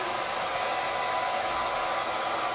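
Close by, a hair dryer runs at a constant roar with a faint motor whine, drying craft paste on a silkscreen transfer. The sound holds steady for a couple of seconds with no voices.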